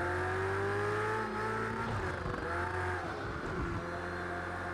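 A race car engine in the video game Project CARS holds a steady, droning whine with shifting pitch as it revs through a corner, sustained and fairly close with no talk over it.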